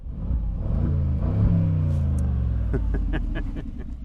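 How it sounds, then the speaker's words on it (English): A 2021 Mercedes-Benz G550 engine revving from idle, a deep rumble rising and falling in pitch over a few seconds, close and fairly loud with no voices. "I'm gonna get some revs"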